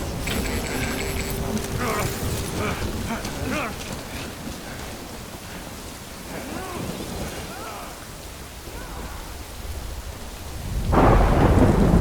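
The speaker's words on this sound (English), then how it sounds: "Good thing it was raining." Heavy rain pours steadily in Death Stranding with rumbling thunder rolling through, loud and continuous, swelling into a strong crash near the end.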